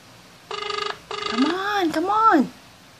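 An unanswered phone call rings as two bursts of electronic ring tone in a prank call setting, followed by a rising and falling tonal sound, close and clear with no talk.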